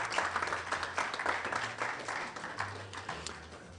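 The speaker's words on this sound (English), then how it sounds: "Please, let's give our sponsors some big round of applause." At a launch event for a national science and maths quiz, an audience gives the sponsors a round of applause: a sustained burst of many hands clapping, moderately distant, with a low hum running beneath.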